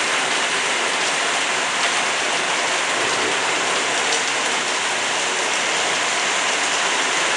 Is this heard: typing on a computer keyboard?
no